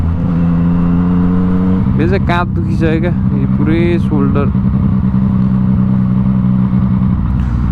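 A motorbike ridden on the road in Sydney, Australia drones with a steady engine hum throughout, close and loud, while a rider talks over the sound.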